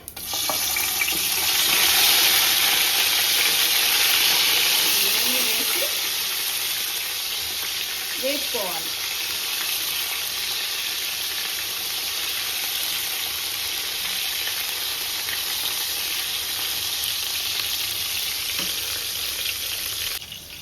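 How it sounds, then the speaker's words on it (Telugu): Eggplants fry with whole garam masala spices in hot oil and ghee, a steady, loud, close sizzle that runs throughout, with a few soft stirring clinks partway through and no talking. "ఇప్పుడు ఆయిల్ వేడెక్కాక ఆల్ గరం మసాలాలు వేసి అందులో ఈ వంకాయలు"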